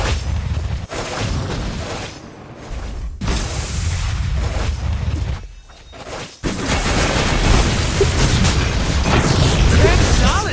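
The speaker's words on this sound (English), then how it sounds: "Your team destroyed the turret!" Turret destruction blast in the MOBA game X.Borg, loud booming explosions and crackling bursts piling up over dense game effects, with an announcer-style voice speaking over the mix.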